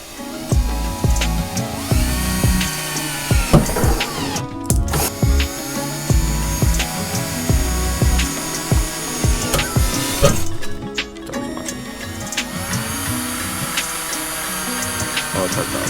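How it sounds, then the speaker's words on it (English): A power drill bores holes through a car deck lid for a wing install, with a loud whining run broken by a couple of short pauses and harsh grinding bursts as the bit bites into the panel, under occasional talk. "So we got the holes all drilled on each side."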